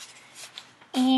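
A single pair of scissors snips once at the close, cutting a yogurt picture out of paper, preceded by soft shuffling and handling of paper.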